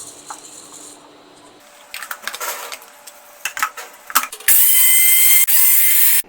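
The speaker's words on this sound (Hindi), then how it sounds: "अब इसे हम ग्राइंड करके इनका फाइन पाउडर बना" Flattened rice (poha) goes into a mixer grinder: a series of clicks and clatters as the jar is set in place, then a loud, steady grinding whir that starts abruptly and runs to the end.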